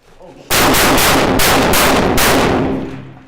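Airsoft rifle, a KWA RM4A1 ERG used at a milsim event, fires a loud, close burst of rapid shots lasting about two and a half seconds, with the volume holding steady through the string before it cuts off.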